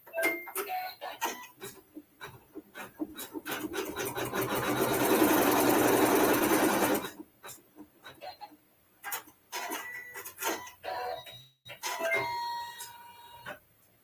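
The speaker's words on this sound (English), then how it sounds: "with a neutral colored thread, we're going to sew our seam" A sewing machine stitches a seam with neutral thread, running in a steady burst of rapid whirring in the middle. Short taps and clicks come before and after it, and a voice speaks at the start and end.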